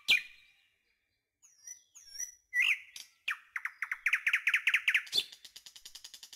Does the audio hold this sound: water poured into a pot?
no